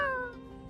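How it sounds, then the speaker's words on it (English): A single drawn-out cat meow from the My Time at Sandrock video game, a clear tonal cry that slides down and fades, heard alone and close. "That was the most human sounding cat I have ever heard."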